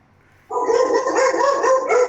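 Dogs bark and howl together in a sustained, loud chorus that starts abruptly and continues steadily, with no talk over it.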